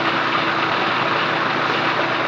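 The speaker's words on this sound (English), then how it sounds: "Put that on and get that food processing." An old KitchenAid food processor blends hummus in a steady, loud, uninterrupted whir that stays constant from start to finish.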